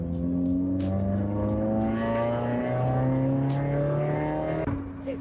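A Suzuki Swift Sport ZC31S race car runs under sustained engine load, its harmonic tone climbing and shifting through gear changes, loud and steady from start to finish.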